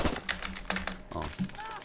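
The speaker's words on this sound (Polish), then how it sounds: "dwa strzały" Several sharp gunshots crack in quick succession in Arma 3, loud and close, with rapid bursts layered over background game noise.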